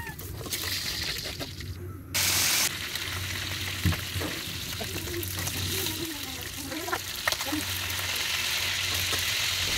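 Fish frying in oil in a pan, a close, steady sizzle with crackling pops and occasional stirring scrapes running throughout, no talk.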